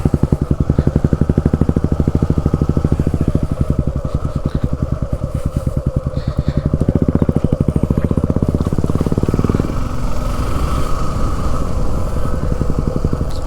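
An adventure motorcycle rides over a rough road, its engine throbbing loud and steady with rattling clatter, then easing to a lower, softer run for the last few seconds.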